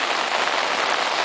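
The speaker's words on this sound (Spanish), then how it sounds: "No para de llover." Steady, heavy rain falls continuously during a street flood in Murcia, a dense hiss of drops striking surfaces with no pauses and no voices.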